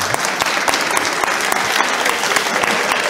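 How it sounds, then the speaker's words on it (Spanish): Lecture-hall audience applauding, a dense, steady burst of many hands clapping at even loudness with no break. "el aplauso así de este lado"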